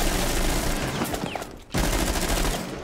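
Gunfire in the video game Rainbow Six Siege hits the player, with dense rapid bursts of shots that break off for a brief gap and then resume, loud and close.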